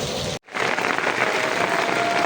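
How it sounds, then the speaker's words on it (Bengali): Steady heavy rain pours at a Brahmaputra river ghat at Sabdi Bazar, a dense continuous hiss that drops out briefly near the start and then resumes loud and unbroken. "আমরা বৃষ্টিতে ভিজতেছি।"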